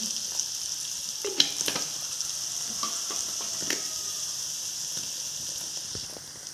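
Mustard seeds, curry leaves and chilli powder sizzle in hot coconut oil for a masala dosa filling, a steady close hiss broken by sharp crackles and pops, with no voices.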